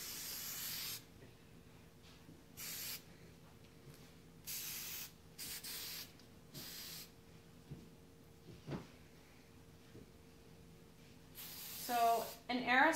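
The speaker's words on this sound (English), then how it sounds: "we're just going to take your hairspray. We gotta get this all set and smooth." Aerosol can of hairspray spraying onto long hair in short hissing bursts, several separate puffs at close range spaced irregularly, quiet overall, with a voice talking near the end.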